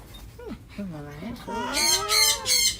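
A chicken clucks and gives drawn-out, rising and falling calls close by, a few of them in a row, ending in a louder, harsher burst of sound.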